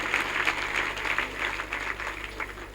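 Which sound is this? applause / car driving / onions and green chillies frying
applause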